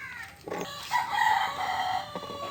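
A rooster crows among chickens on a poultry farm, one short drawn-out crow at moderate loudness over a steady background hum.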